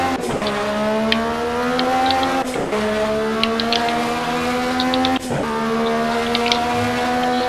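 Race car engine in the racing video game Project CARS, loud and continuous with rising revs through the gears, three sharp upshift breaks, no talk.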